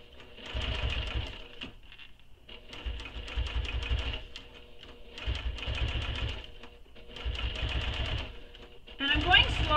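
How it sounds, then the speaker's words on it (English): A domestic sewing machine top stitches slowly along vinyl under a zipper on a crossbody bag, running in three or four steady bursts of rapid stitching with short pauses between, close and loud, and a little handling noise at the end. "So now I'm going to top stitch this entire edge under the zipper here"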